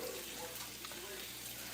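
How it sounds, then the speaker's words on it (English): Hot tap water runs steadily into a sink during dishwashing, a soft continuous hiss and splash that stays faint and even throughout. "When you're washing your dishes, this is good, huh?"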